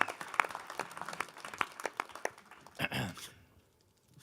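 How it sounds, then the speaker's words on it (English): Audience applause at a live pitch-competition event, a scattered run of claps rising into a denser burst of clapping near the end before fading into quiet. "let's give these guys one more round of applause"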